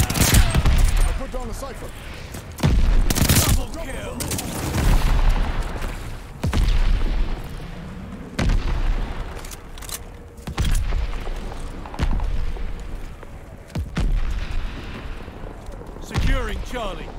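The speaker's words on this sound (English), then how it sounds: "Mortars ready to bracket. Mortar coming in hot. Heads up. Allied mortar fire coming." Mortar fire and explosions in Call of Duty Vanguard multiplayer: heavy booms and bursts of gunfire land every couple of seconds, loud and close, while voices talk over the combat.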